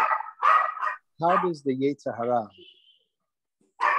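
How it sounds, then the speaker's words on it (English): A pet dog gives a short run of high yips and whimpering barks near the microphone on an online class call, with someone talking just before and after. "That's my dog."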